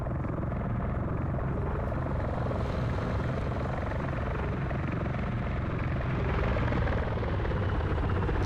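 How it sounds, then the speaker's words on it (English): A Sea Stallion helicopter in a video game flies low just above power lines, its rotor and engine roar loud, close and steady throughout with no voices. "that Sea Stallion flying really low"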